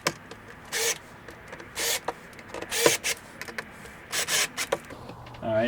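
Short bursts of a power screwdriver whir in and out as sheet metal screws are driven into a plastic vehicle jumper box case, close up, several brief runs separated by pauses and light handling clicks.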